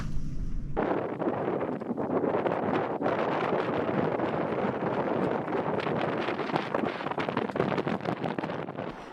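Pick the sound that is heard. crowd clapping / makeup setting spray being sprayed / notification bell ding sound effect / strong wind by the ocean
strong wind by the ocean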